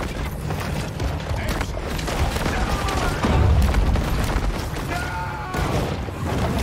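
Bomb explosions in the Maneater shark game, a dense run of booming blasts and crackling bursts with rumbling low thuds, loud and continuous across the clip.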